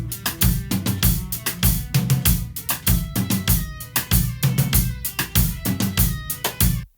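Full drum kit picked up by a room microphone aimed at the kit, loud and close with steady rhythmic hits of kick, snare and cymbals throughout, no talking.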